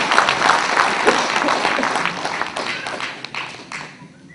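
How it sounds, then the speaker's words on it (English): A crowd at a neurosurgeons' conference claps, with dense applause at the start that gradually thins out and fades toward the end. "It would be appropriate to have a big round of applause"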